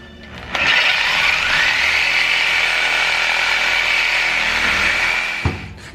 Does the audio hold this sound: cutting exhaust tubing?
yes